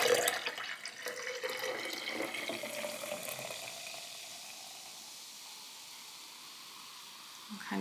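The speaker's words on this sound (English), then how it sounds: "as you can see, it's fizzing a little bit, bubbling up" Liquid is poured in and fizzes and bubbles up, a soft watery hiss that starts fairly strong and fades to a faint steady fizz, heard alone.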